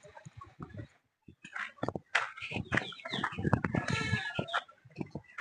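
Chickens in a village, several birds clucking and squawking close by in irregular bursts, growing louder and more agitated after a short pause.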